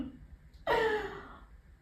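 A single deep inhale taken during a stretching exercise for the waist and side, a short breathy rush starting after a moment of quiet and trailing off over about a second, close and moderately loud.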